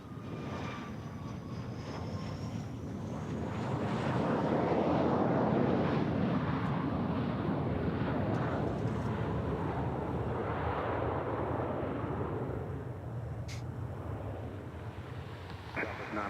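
A jet airplane rumbles past at Dallas Love Field airport, its loud broadband roar swelling to a peak mid-clip and then slowly fading, with a faint high engine whine early on and wind buffeting the microphone throughout.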